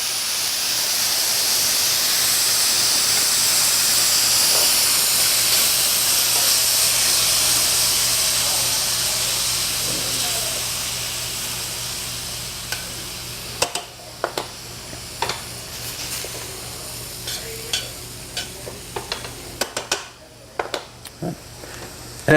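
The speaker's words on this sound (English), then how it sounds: "add a little bit of water, and this is going to help steam the vegetables" Water added to a hot pan of vegetables gives a loud, steady steaming hiss that fades over several seconds, followed by scattered clinks and scrapes of a utensil against the pan.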